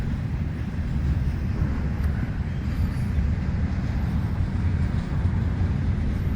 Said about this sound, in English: That is a long train.